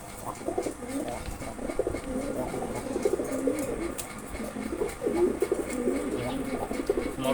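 A pair of Sobji Gorra pigeons coo close by in repeated soft, throaty phrases, with a few faint chirps and rustles in the background.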